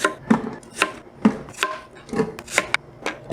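A knife cuts an apple in half on a board for an apple-banana milkshake, giving a handful of close, crisp chopping and scraping strokes spaced unevenly over a few seconds, fairly quiet, with no talking.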